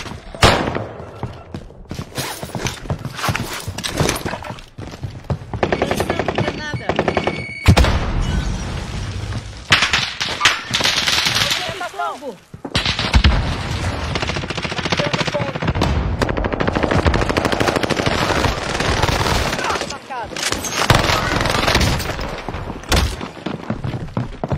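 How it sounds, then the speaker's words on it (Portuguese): Gunfire in the video game Warzone comes as dense bursts of rapid automatic shots and booming impacts, loud and sustained with brief pauses between volleys. "Estão atirando em mim."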